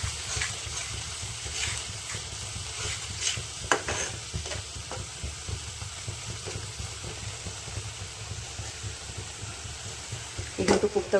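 Ground spices with a splash of water being stirred and fried in a pan for a jackfruit kofta curry, a continuous loud sizzle with repeated spatula scrapes and a burst of clatter near the end.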